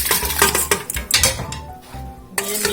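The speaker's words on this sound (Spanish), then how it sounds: "Ya que tenemos bien enjuagado nuestro arroz, lo vamos a vaciar a nuestra olla." Rinsed rice tipped into a cooking pot for Mexican rice pudding, heard as a close clatter of grains and metal clinks against the pot in quick uneven bursts, with a short lull before a final rattle.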